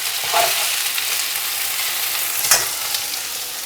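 Okra pieces frying in oil in a pan while being stirred, giving a steady close sizzle with a couple of brief scraping clicks from the stirring.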